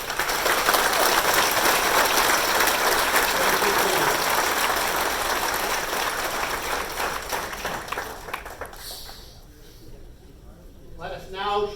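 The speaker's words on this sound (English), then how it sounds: "Let us welcome them and give them a round of applause" Sustained applause from a hall audience greeting a board of directors at a hall of fame induction ceremony, dense and loud for most of the stretch, then thinning as a voice begins speaking near the end.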